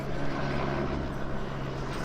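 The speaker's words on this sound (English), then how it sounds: "I'm sorry about the plane." An airplane passes overhead with a steady, broad droning roar that fills the whole short stretch, moderately loud and distant, with no talking.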